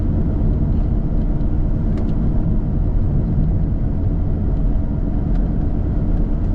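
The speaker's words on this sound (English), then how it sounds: "It's quite interesting to meet a car like this on a big B road." A car cruising along a broad country B road, a constant loud rumble of engine and road noise from inside, with a Nissan Skyline passing nearby and no speech.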